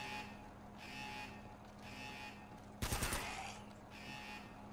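A short, loud burst of rapid gunfire from the video game Uncharted cracks out near the middle, set against a quieter pulsing game background with no talk.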